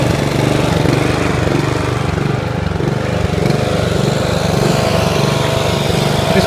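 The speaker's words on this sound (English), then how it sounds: "This is my little backup mower." A Toro Super Recycler walk-behind lawn mower runs continuously through very thick grass with its deck at the highest setting. The engine drones loud and close at a steady pitch throughout.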